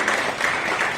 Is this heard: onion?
no